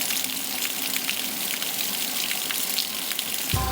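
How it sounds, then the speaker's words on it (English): Water gushes steadily through a magnetic frame rail cleaner attached to a hose, flushing a vehicle's frame rails from the inside; a close, continuous hissing rush with small spattering bursts and no talking. "Turn on the water, and now it'll clean your rails from the inside."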